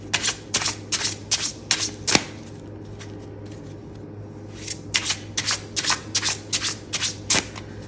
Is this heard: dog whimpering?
no